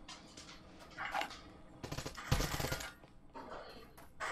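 Gunfire in the VR shooter Breachers, a few short bursts of shots at moderate volume with quieter gaps between them.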